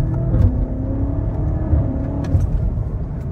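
A BMW F90 fitted with a Dinan X-pipe exhaust drones and revs, the engine rising and dipping in steady pulses. Heard close from inside the moving car, loud and continuous, with no voices over it.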